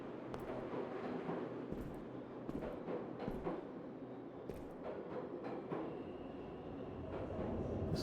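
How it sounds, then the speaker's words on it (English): Rumbling subway station ambience in a video game, a continuous low train-like drone with scattered metallic clicks and clanks throughout, steady and moderately quiet, with no talk. "This looks like a subway station, kind of."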